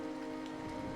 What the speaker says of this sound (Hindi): बाहर बारिश की आवाज लगातार गूंज रही थी।